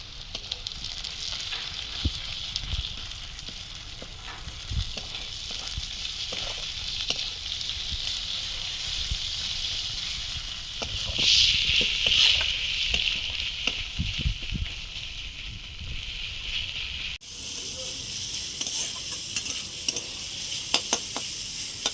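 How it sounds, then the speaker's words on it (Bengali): Chopped onion hits hot oil with lightly fried grated garlic, giving a steady, close sizzle and frying hiss with occasional stirring scrapes that swell briefly midway, all without any talk. "এবার আমি পেঁয়াজ কুচিটা দিয়ে দেব।"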